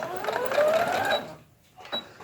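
A sewing machine backstitches a seam on a pair of shorts: a close burst of fast stitching runs for about a second, pauses, then gives a brief second whir.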